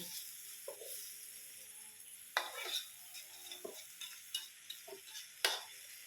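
Rice vermicelli stir-fried in a pan until dry, giving a steady close sizzle with repeated scraping and tossing strokes of a spatula against the pan and occasional light metallic clinks.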